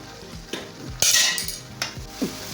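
Spinach greens wilt with salt in a pan, heard as sharp metal utensil scrapes and clanks against the cookware, a few distinct strokes over a soft background, with no voices.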